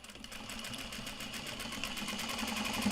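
Sewing machine stitching traveler slings for a Christmas market, a steady fast mechanical whir with rhythmic needle chatter running continuously and growing slightly louder, with no talk.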